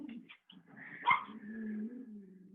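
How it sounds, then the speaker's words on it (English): A small dog barks and whines in short yappy bursts, close by, with one sharper bark in the middle and a drawn-out whimper after. "That's the sound of my little dog barking."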